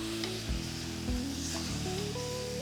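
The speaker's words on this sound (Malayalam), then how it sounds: "മസാല ഇതെല്ലാം നന്നായിട്ട് പിടിക്കുന്ന വരെ ഒന്ന് വഴറ്റിയെടുക്കുക" Masala sautéing in a pan for a homestyle Kerala chicken curry gives off a steady, close sizzle with soft stirring scrapes and a few brief bumps.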